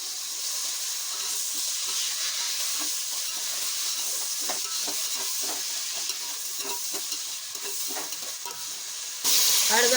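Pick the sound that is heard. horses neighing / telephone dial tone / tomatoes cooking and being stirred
tomatoes cooking and being stirred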